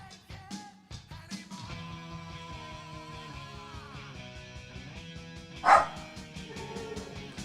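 A dog barks and yips indoors in a short series of calls, with one sharper, louder bark near the end; no one speaks.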